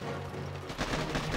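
Gunfire from a defensive turret in the mobile strategy game Boom Beach, a dense rattle of rapid shots that grows louder after a quieter start, mixed with game background sound.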